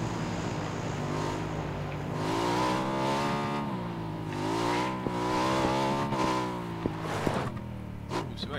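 A vehicle in the game PUBG drives down a mountainside, its engine droning steadily with rising and falling pitch as it revs, loud and close throughout with faint wind noise and occasional knocks.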